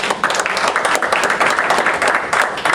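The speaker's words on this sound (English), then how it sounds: "Y'all give them a round of applause." Audience applause after a leadership coach's talk at Northern Virginia Community College, a dense, steady burst of many hands clapping close by for about three seconds.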